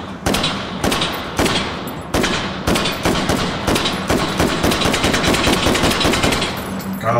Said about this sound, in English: Of course, the M14 is capable of full auto, but we're not going to be doing that.